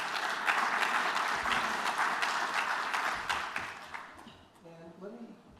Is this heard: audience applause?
yes